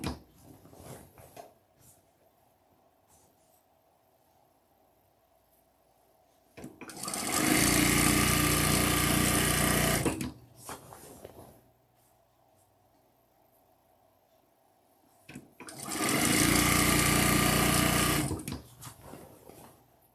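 A sewing machine stitches fabric strips in two loud, steady bursts of whirring running a few seconds each, separated by quiet pauses with faint handling noises.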